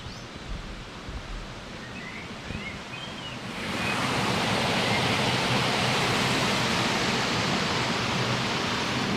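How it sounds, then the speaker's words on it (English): Quiet outdoor ambience by an old mill house on the Malmesbury river gives way to a loud, steady rush of water flowing beneath it, continuing unbroken to the end. "There's still water today, presumably going underneath it"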